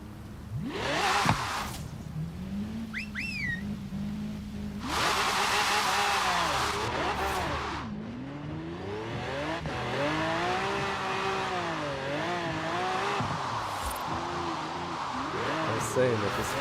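A car revs and drifts on a wet track in the rain, its engine rising and falling in long whining sweeps with a spray-like hiss, while someone talks over it near the microphone.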